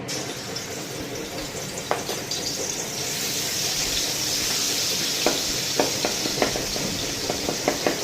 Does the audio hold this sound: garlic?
yes